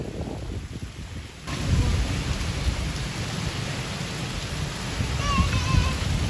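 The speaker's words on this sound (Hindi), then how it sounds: "बहुत तेज़ बारिश हो रही है, बारिश तेज़ हो रही है, हवा तेज़ चल रही है" Torrential rain pours down steadily outdoors with strong wind, thunder rumbling low beneath the dense hiss, the downpour swelling louder after the first second and continuing without a break.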